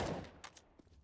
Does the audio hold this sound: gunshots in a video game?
yes